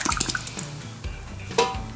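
Liquid is poured into a steam jacketed kettle while cooking a batch of chili with beans, giving a close, splashy gush of pouring over about two seconds, with no talking.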